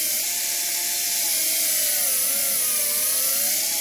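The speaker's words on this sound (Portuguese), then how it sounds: "Nesse momento, com a broca específica, tá, a gente vai fazer uma série de canaletas." A high-pitched dental bur whines steadily while cutting grooves into a tooth for an onlay preparation, its pitch wavering slightly as pressure changes; close and continuous, with no talking.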